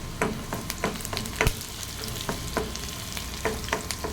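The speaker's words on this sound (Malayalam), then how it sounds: "ചെറിയ ഉള്ളി ചെറുതായിട്ട് അരിഞ്ഞ് അത് ഫ്രൈ ചെയ്യണം" Chopped shallots and curry leaves sizzle gently in a hot pan, with scattered crackles and pops and a scraping stir now and then; no voices.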